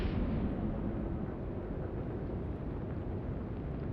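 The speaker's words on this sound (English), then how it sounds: "Whoa, that torpedo hits." A torpedo striking a ship in the naval game Atlantic Fleet, a muffled explosion whose sharp onset fades into a long, dull, rumbling wash with no voices.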